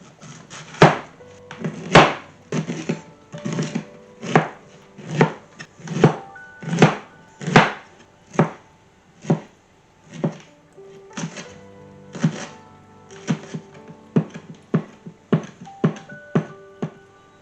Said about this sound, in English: I'm going to chop up some pineapple, shallot, and thyme.